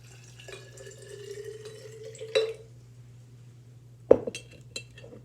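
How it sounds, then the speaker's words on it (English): Water pours steadily into a glass jar for a couple of seconds, ending in a clink, followed by a few more sharp glassy knocks over a low hum. "I'm going to take some water, and I'm going to pour this into my jar."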